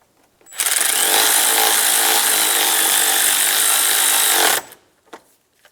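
A power tool runs loud and steady for about four seconds, tightening the bolt on the power steering line bracket of a 2000-2006 Toyota Tundra, then stops abruptly, followed by a faint clink.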